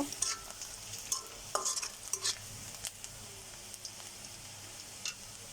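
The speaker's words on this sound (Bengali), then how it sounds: "পেঁয়াজ আর রসুনটাকে খুব বেশি একদম ভাজবো না হালকা করে ভেজে নেব" Chopped onion and garlic lightly frying in a pan for mung dal with jute leaves, with soft sizzling and repeated scrapes and clinks of a spoon stirring, fairly quiet and close.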